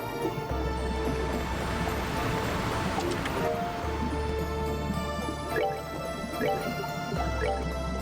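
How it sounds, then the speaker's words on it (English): Bath water boils in Trails in the Sky SC, a continuous bubbling and dripping churn with a low hum underneath, steady throughout and fairly loud. "Water's boiling here."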